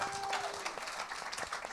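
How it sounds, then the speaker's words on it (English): Brief, fairly faint applause from an audience at a talk, a thin patter of hands under a low hum for under two seconds. "Give a round of applause"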